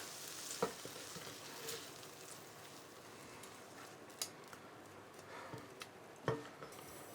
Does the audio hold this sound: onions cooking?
yes